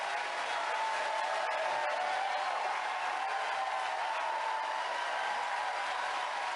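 Crowd at a Democratic presidential debate in Las Vegas applauding, a dense steady wash of clapping that holds evenly throughout with no voices standing out.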